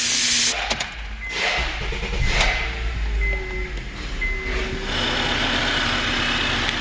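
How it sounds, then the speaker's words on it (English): A Honda Accord engine idles with a freshly replaced power steering pump, a steady mechanical hum with a hissy, airy wash and a few brief clicks and knocks nearby. "we have a power steering pump that's nice and quiet"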